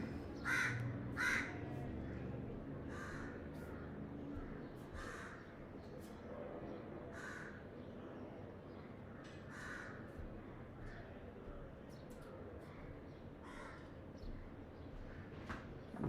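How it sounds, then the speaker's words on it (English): Crows caw outdoors as they visit, a string of harsh, moderately distant calls in short clusters spread across the stretch, with a faint murmur of background room noise and occasional speech. "We have some visiting crows here."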